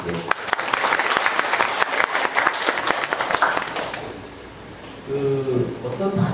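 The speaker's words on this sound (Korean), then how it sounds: "경례 박수 부탁드릴게요." Audience applause at a 2015 shareholders' meeting, dense clapping filling the room for about four seconds before fading, followed by someone speaking.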